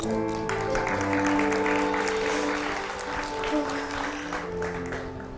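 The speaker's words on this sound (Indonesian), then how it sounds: "Tepuk tangan dong buat Risti" Studio audience applause for Risti on a talk show, sustained, dense clapping from a crowd, loud and steady throughout with a musical tone underneath.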